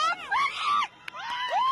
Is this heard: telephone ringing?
no